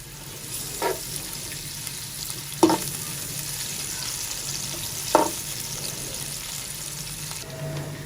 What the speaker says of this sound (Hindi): सबसे पहले हम प्याज फ्राई करेंगे।